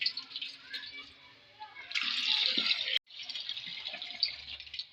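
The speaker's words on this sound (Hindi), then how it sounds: "पानी जब तक साफ नहीं ना आएगा तब तक हम इसको धोएंगे।" Lentils (dal) being rinsed by hand in water, a soft, close sloshing and swishing with a few trickles and a brief pause partway.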